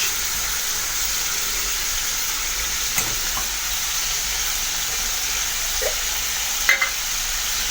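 Beef liver frying in a pan, a steady, loud, continuous hiss of hot oil that runs unbroken throughout, with a couple of faint clicks near the end.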